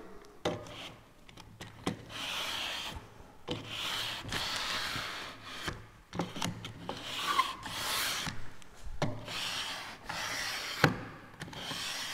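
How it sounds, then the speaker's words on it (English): A piece of changeable sandpaper rubs back and forth over the corner of freshly applied edge banding, close rasping strokes in an uneven rhythm with short pauses between passes. "And then with their corner break, just a piece of sandpaper, and this is changeable sandpaper."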